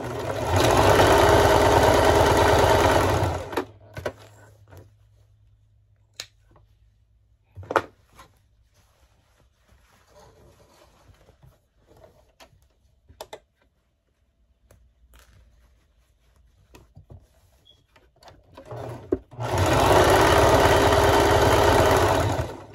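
Sewing machine stitching down a scrub cap, with a loud steady whir in two bursts at the start and end. The quiet stretch between them has light handling clicks.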